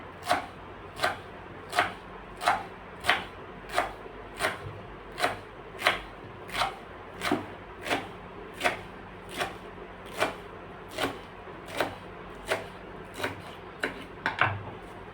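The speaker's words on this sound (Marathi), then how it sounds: "आपल्याला हे अगदी जेवढं बारीक कट करता येईल तेवढं बारीक कट करून घ्यायचं आहे" A knife chops through tightly rolled colocasia leaves on a board, cutting them as finely as possible for alu vadi, with about seventeen crisp, evenly spaced strokes at a steady, unhurried rhythm, close and clear.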